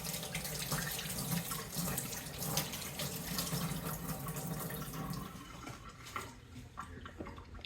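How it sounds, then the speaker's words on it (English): Hands being washed under a running kitchen tap while making a breakfast burrito: a steady, close rush of water splashing into the sink that holds throughout, thinning slightly toward the end. "And wash my hands."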